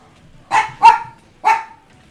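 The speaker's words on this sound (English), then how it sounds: "Oh, dogs are barking." A dog barks three times, close and loud, with short sharp barks in a brief uneven rhythm over quiet background.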